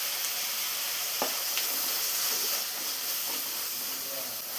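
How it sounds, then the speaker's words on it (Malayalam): Cut tomato added to softened onions in a pan for a pumpkin curry, giving a steady soft sizzle and frying hiss throughout with a few faint stirring clicks, close by and with no talk. "ഇതിലോട്ടൊരു തക്കാളി കട്ട് ചെയ്ത് വെച്ചിട്ടും കൂടി ചേർത്ത് കൊടുക്കാം"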